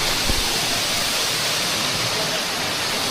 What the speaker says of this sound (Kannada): Ermai water falls.